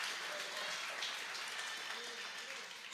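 Congregation applauding during a Portuguese-language church service, a steady, fairly faint wash of clapping that continues throughout with a background murmur of voices.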